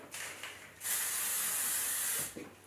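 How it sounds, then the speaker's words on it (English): A steady Redken hairspray hisses for about a second and a half, close and loud, with faint rustling before and after. "A quick spray."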